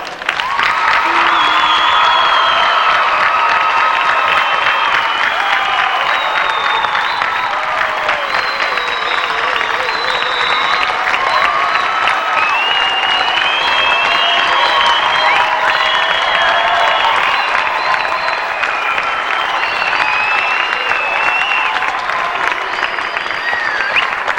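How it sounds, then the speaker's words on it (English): A large audience at a state leadership conference breaks into sustained applause with cheers and whoops, a dense, loud wash of clapping that holds steady throughout without letting up. "join me again in giving these people a big round of applause"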